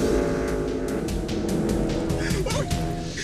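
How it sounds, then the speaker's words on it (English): Stock cars tear around a race track at about 160 miles per hour, a loud roaring engine wash with sharp passing bursts and tire noise layered throughout. "stock cars are speeding at them head on at 160 miles per hour"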